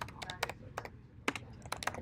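Quick, uneven keystrokes on a computer keyboard while HTML code is entered, with crisp clicks arriving in short bursts and brief pauses, close and fairly quiet, with no talking.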